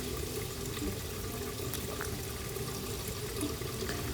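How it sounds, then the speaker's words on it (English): Water pours steadily into the filter chamber of a Miele dishwasher to flush out debris, a soft continuous running and splashing heard up close with no talk. "I'll fill the chamber with water, and then I'll turn it over and let the water carry the debris out"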